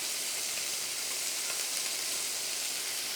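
Seafood sizzles steadily in a very hot oiled pan, a bright, continuous crackling hiss at close range. It holds an even level with no talk.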